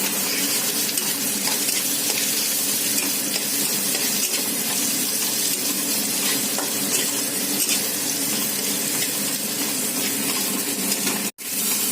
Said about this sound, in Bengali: পেঁয়াজটা ভালো মতো ভাজা ভাজা হয়ে গেছে। এবার ক্যাপসিকামটা দিয়ে দেবো।